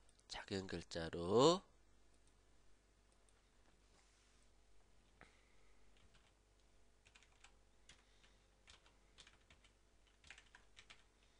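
Keys click on a computer keyboard while text is typed in Photoshop, coming as faint, scattered taps after a short burst of speech at the start.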